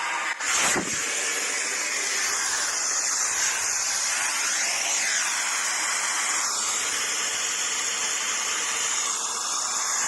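Compressed air from a sandblaster valve opened fully, a steady loud broadband hiss that runs unbroken for about ten seconds after a brief opening burst.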